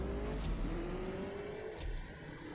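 A car in the CSR2 drag racing game accelerates hard on nitrous, a steady rising engine drone with gear changes, heard alone with no talking.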